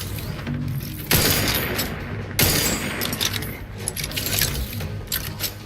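Dense automatic gunfire bursts in the Outer Worlds 2 video game, a sustained loud fusillade with sharp onsets near one and two and a half seconds, continuing as rattling volleys throughout.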